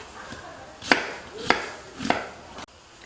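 Three sharp knife strikes chop onion into bite-size slices on a cutting board in a home cooking class kitchen, evenly spaced and close, with no voices.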